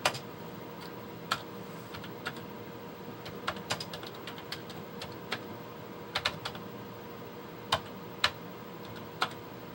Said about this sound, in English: Keyboard's a little sticky, needs to be cleaned.